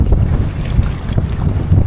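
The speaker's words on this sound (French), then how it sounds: "le vent s'est bien levé là, ils avaient prévu du vent" Strong wind buffets the microphone on the Rance river in November during a scallop freediving outing, with loud low gusts and a faint wash of water and waves.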